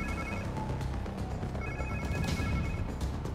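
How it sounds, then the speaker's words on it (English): A cell phone rings in the video game Spider-Man 2, with two steady electronic ring bursts separated by a short gap, moderately loud over game background noise. "Sounds like somebody's phone."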